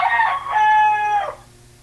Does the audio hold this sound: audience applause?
no